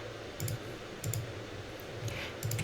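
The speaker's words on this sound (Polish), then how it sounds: "Klikamy lewym przyciskiem myszki w celu zaznaczenia naszej, naszego elementu" Soft computer mouse clicks come in small pairs at irregular intervals, quiet and close over a steady background hiss.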